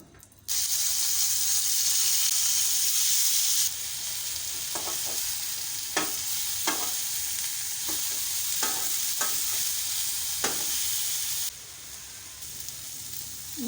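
Beef tikka kababs frying in oil on a flat tawa make a loud, continuous hiss of sizzling, broken by several sharp clicks of a utensil against the metal, and the sizzling drops lower near the end.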